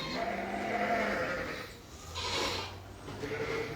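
Pygmy goats bleat noisily in lamb-like cries, several overlapping calls rising and falling close by over a steady background.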